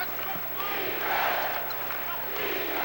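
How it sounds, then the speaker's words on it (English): Basketball arena crowd during a 1980 NBA Western Conference semifinal between Phoenix and the Los Angeles Lakers, a steady roar of cheering that swells around the middle, with a commentator's voice running beneath the noise. "Crowd comes alive."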